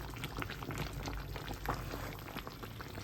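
A pot of meat with liver and kidney simmers on the stove, a soft steady bubbling with small pops, faint and alone.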